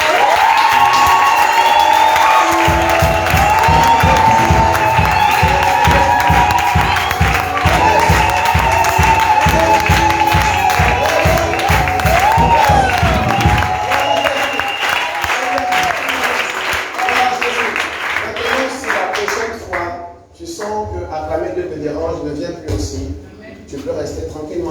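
A church congregation bursts into loud, sustained applause and cheering with whoops, rhythmic clapping for the first half, fading into scattered claps and murmuring voices toward the end.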